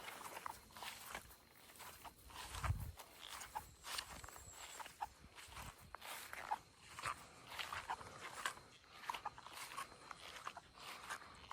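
A puppy moving around in a wilderness cabin: soft footsteps, faint whimpers, and a sudden low thump partway through, all quiet and close.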